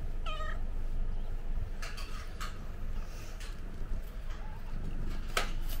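A mother cat and her newborn kittens indoors, with several short, high meows close by: one clear cry near the start and further brief mews scattered through, over a steady low background hum.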